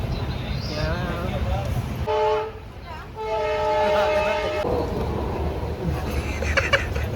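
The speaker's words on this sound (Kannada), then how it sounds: "ಫೈನಲಿ ಟ್ರೈನ್ ಹೊರಟಿದೆ" A passenger train for Goa pulls out of Yesvantpur in Bengaluru, with rumbling carriages and two loud, sustained horn blasts close by and people talking throughout.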